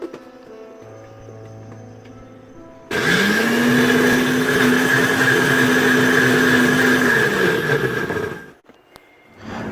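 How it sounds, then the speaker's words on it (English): A blender whirs loudly as it blends pandan leaves with water, starting abruptly after a quieter stretch, holding a steady high-pitched motor drone for several seconds, then cutting off near the end. "And then we put a lid on the blender and start the process right away."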